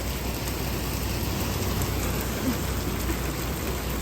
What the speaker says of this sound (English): Oh, it's hailing now. It's hailing.